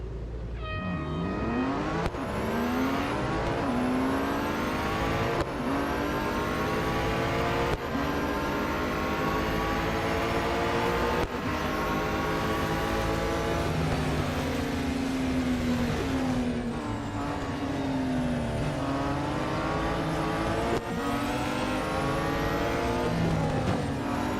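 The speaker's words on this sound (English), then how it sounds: "It is a 22 car race, and this car isn't the best." Race cars from Real Racing 3 in a 22-car race on the Circuit de Catalunya national layout: loud, continuous engine whine climbing and dropping with repeated gear shifts, several cars droning close together throughout.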